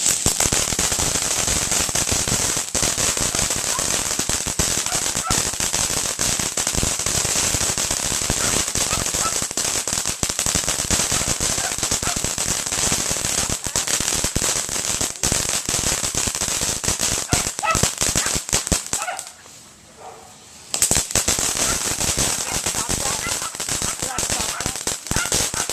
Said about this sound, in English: that was called crickets. That was very loud and extremely long.